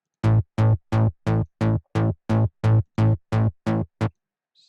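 Synth bass patch on A programmed in FL Studio for a happy hardcore remix, eleven evenly spaced punchy buzzy notes in a steady rhythm, loud and dry, ending in silence.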